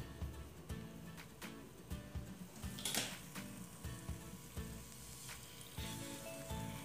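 Guava-filled bolinhos de chuva fry in a pan of oil, giving a steady crackling sizzle with scattered sharper pops, fairly faint and close, with no one talking.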